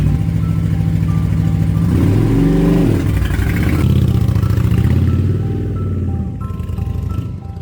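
A motorbike engine revving and pulling while riding, rising and falling through the gears, loud and close, then easing off toward the end.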